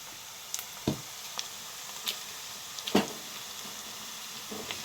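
Chopped eggplant going into a pan of frying onions and green chillies, with a soft steady sizzle and a few faint clatters and plops, close but quiet, with no talking.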